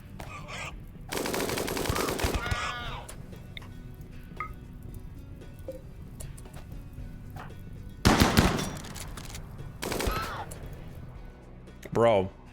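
Minigun bursts in the video game RimWorld come as several short, loud rattling volleys separated by quieter gaps, alongside scattered game effects and bits of voice.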